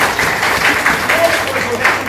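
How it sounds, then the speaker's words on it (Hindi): Audience at a seminar applauding steadily in a short run of rhythmic clapping, with a voice audible underneath. "एक बार हम कमलेश्वर राय सर के लिए जोरदार ताली चाहेंगे।"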